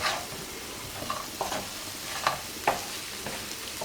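Fried fish pieces are turned into a roast-style gravy in a pan, with a quiet steady sizzle and soft intermittent scrapes and taps of a spoon, and no talking.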